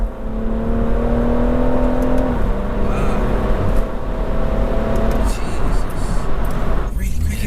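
A JB4-tuned BMW M140i accelerates hard from speed, a steady engine drone with a shift around the midpoint and road roar building, heard from inside the car with a brief voice exclaiming.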